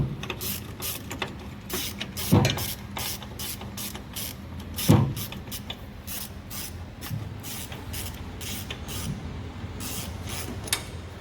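Ratchet clicking while bolting in a test-fit body mount on a 1963 Buick Riviera ProTouring build in a metal shop, a steady series of quick ratcheting bursts with two louder metallic knocks.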